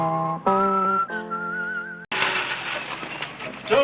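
A person whistles a short tune in clear, sustained melodic notes, phrase after phrase, then the whistling gives way to a loud burst of broadband noise like a passing train or station bustle.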